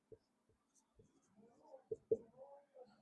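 Numbers written by hand during a class 10 math lesson on real numbers, quiet scattered taps and scratchy strokes at close range, with soft speech mixed in.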